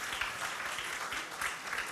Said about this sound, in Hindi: मैं चाहता हूं तालियां बजाई जाएं